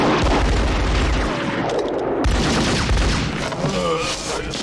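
Dense, loud gunfire and booming bursts roll almost without pause through a shootout in the film Ronin, filling the whole stretch with heavy, continuous noise.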